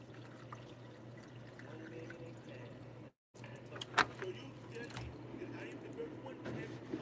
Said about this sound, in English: And I'm going to add some distilled water.